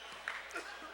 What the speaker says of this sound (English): And a whistle.